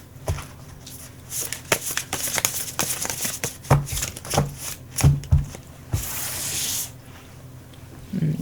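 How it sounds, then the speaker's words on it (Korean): Tarot cards are shuffled and picked out by hand close up, making continuous riffling and rustling with sharp slaps and taps as the deck is handled and cards are set down. "7번 텐저린을 고르신 분들 카드 셀렉 해볼게요"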